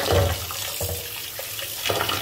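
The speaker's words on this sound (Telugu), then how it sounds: "నీళ్ళు వంపేసేసి మళ్ళీ నీళ్ళు పోసి" Water sloshes and runs steadily as finger millet is rinsed in a vessel, a continuous wet wash with a few small splashes.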